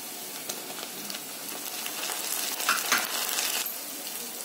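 Onion and tomato frying together in a pan for radish bhaji, a continuous close hiss with a few light metallic clinks of a spoon, no voices.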